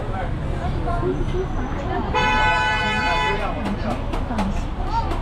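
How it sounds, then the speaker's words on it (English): A long, steady car horn blares for about a second over busy street noise and chatter on a food-stall street in Guiyang, China, followed by a few short sharp sounds. "Lots of people honk their horns here, I've noticed."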